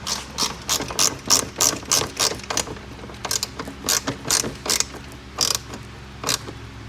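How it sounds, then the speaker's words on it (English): A small hand ratchet with a number 10 socket tightens bolts while an electric ATV is assembled, giving rapid bursts of clicking strokes in an uneven rhythm, close and crisp with brief pauses between runs. "Again, it's on our little ratchet, just a number 10."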